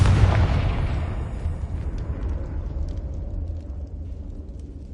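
A Confringo fire spell blast in the Hogwarts Legacy video game: one loud booming explosion at the start that rumbles and slowly decays over several seconds, with no voices.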